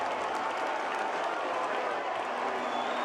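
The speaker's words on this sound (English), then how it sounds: "The crowd is incensed here." Dense roar of a football stadium crowd at a Concacaf World Cup qualifier between Dominica and Jamaica, a steady loud wash of shouting and clapping voices with no breaks.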